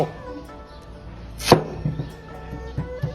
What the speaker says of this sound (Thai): หั่นใหญ่ๆเลยนะครับ